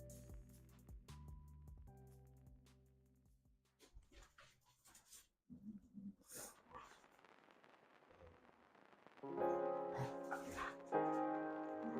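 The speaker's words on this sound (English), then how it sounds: "The dogs are playing." Dogs playing indoors, with scattered yips, whimpers and short barks, some close and some farther off, amid household noise and a stretch of louder sound toward the end.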